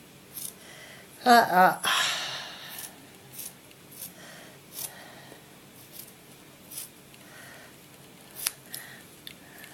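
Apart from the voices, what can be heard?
scissors cutting a sock near the heel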